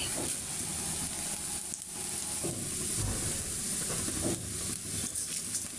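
Spices, cumin among them, fry and get stirred in a pan of oil for a jackfruit curry, giving a steady close hiss of sizzling broken by light scraping stir strokes, with no talk.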